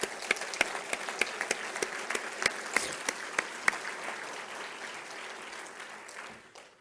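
At a college State of the College address, an audience gives moderate, fairly distant applause for three chairs, with individual sharp claps standing out above the steady patter before it tapers off.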